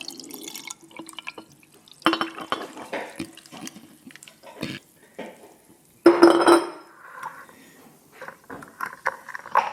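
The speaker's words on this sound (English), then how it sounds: "And then add the water kefir." Water kefir poured into a glass kilner jar with a lid, giving intermittent liquid pours and drips with clinks of glass and lid over about ten seconds, loudest near the middle, close by.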